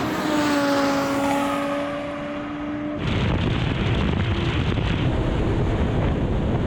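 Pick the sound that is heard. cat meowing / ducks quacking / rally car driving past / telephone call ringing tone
rally car driving past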